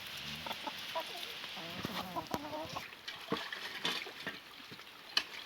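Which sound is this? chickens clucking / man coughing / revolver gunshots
chickens clucking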